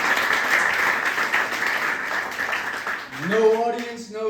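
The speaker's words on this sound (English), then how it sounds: "Give yourselves a round of applause for that." A comedy club crowd applauds steadily for several seconds, then the clapping fades as a voice starts speaking over the tail.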